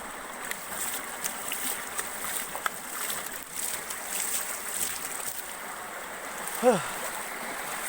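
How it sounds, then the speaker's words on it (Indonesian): Steady splashing and pouring water runs throughout, a hose-like wash rinsing a car at close range with a brief whooshing swell near the end. "Siram lagi di atas."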